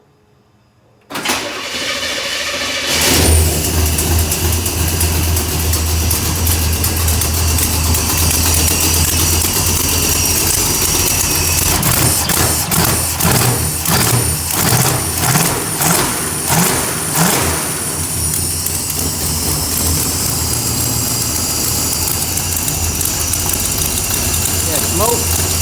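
An engine with fouled, bad-smelling spark plugs cranks and fires, then settles into a loud, close idle with a few revs in the middle. Someone speaks briefly at the start.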